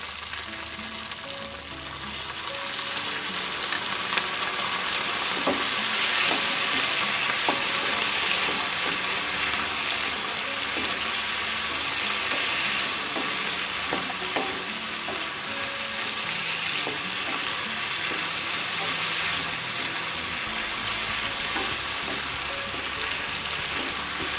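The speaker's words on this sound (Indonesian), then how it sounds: "Dan sekarang akan saya tuangkan sedikit air. Gunakan air hangat ya." Green beans and chicken meatballs stir-fry in a pan as warm water is added, a steady sizzling hiss with scattered pops and scrapes, close and continuous.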